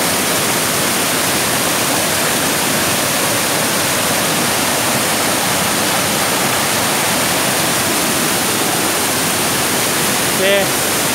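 Water rushes steadily at Tat Yai waterfall in a rural village. A dense, loud roar holds evenly throughout with no other sounds standing out, apart from a tiny blip near the end.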